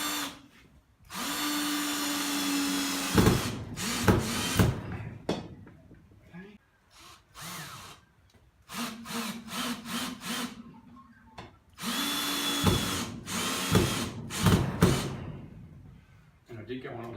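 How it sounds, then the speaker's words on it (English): Power drill driving a screw into a garage wall stud while mounting overhead shelving, a few sustained whirring runs broken by pauses and clunks, close, with someone talking in the gaps. "I'm mounting the first screw in upside down because I don't want to have it swing down and mark the wall"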